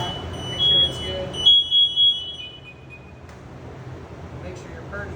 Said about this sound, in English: you'll have some beeps and stuff you'll hear in a second. So that's your alarm